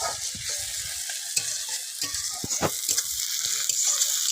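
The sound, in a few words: garlic and onion frying in a pan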